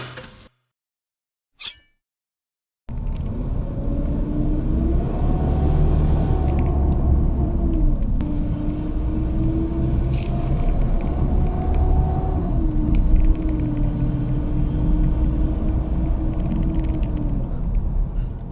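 Nissan Navara D23 (NP300) pickup, 2015-2016 model, driving under load with a blowing exhaust fault: a steady loud engine drone and rumble with a rising and falling tonal note, continuous after a brief quiet start.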